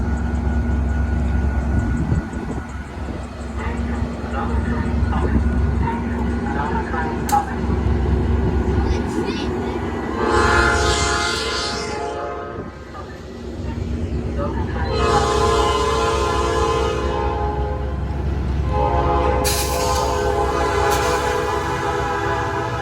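Metra commuter trains meet and pass at a Villa Park grade crossing, a heavy continuous rumble of rolling cars under three long, loud horn blasts spaced several seconds apart, with voices talking nearby.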